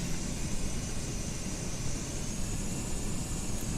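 Steady, broadband engine drone of a Caravan aircraft in a Microsoft Flight Simulator add-on, a continuous even roar with no breaks, heard alone without speech.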